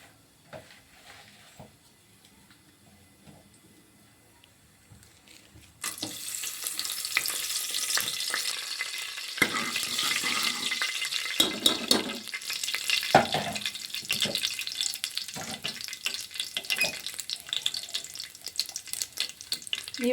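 Mustard seeds tossed into hot oil on a stove for a chicken gravy: after about six seconds of near quiet, a sudden loud sizzle and dense popping crackle erupts and continues close up to the end, with no talking.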